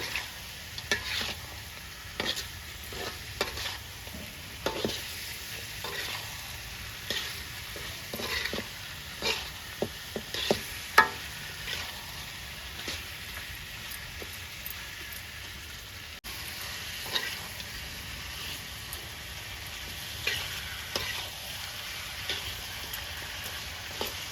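Egg and chicken curry simmering in a pan after chili powder and salt are added, giving a soft, continuous bubbling sizzle with scattered light pops and stirring scrapes, steady and close.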